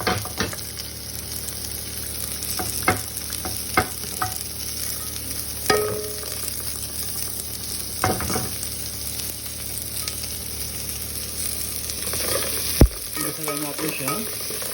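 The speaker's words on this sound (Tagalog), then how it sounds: "Lagyan na natin ang sibuyas saka ginger." Onion, ginger and garlic sautéing in a pan for a Filipino clam soup, a constant loud sizzle with intermittent scraping and clacking of a stirring utensil and a sharp knock near the end, no speech.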